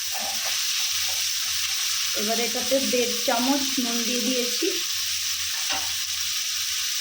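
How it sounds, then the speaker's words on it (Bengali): Capsicum, garlic, sweet corn and carrot sizzle and fry in a pan, a steady close hiss running under a woman's speech. "ক্যাপসিকাম আর গার্লিকটা ফ্রাই হওয়ার পরে আমি দিয়ে দিয়েছি সুইট কর্ন আর গাজর"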